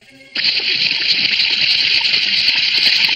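Cartoon water gushes out of a jar in a sudden loud rush that starts abruptly and then pours steadily and noisily without any letup, with no voices over it.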